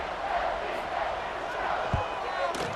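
Stadium crowd roars steadily in a College Football 26 game, Sam Houston versus Middle Tennessee, after a touchdown drive, a dense sustained wash of cheering with a brief thump near the end.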